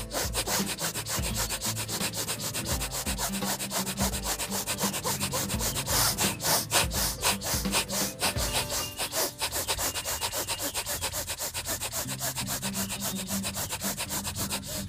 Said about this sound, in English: Gently rub your hand with your knees.